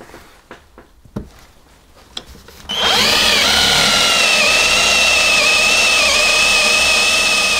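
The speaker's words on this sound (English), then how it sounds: "drill a hole so we have access with the jigsaw and cut" Jigsaw cutting wood along marked lines for a guitar pickguard mold. A few faint knocks come first, then a loud, continuous whining buzz starts and holds steady to the end.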